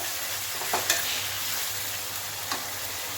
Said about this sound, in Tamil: உப்பு போட்டு நல்லா தக்காளி வதங்கட்டும்